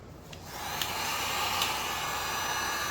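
A heat gun blows over resin poured on a tabletop, a steady close airy roar that swells as it starts up and then holds evenly, with a few faint clicks.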